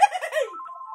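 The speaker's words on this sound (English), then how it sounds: "The phone! Yay!" A telephone ringing with a steady electronic tone after a brief burst of talk-like sound at the start, sounding clear and close.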